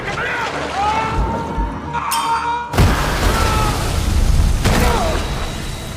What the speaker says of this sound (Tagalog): nagkaroon ng napakalakas na pagsabog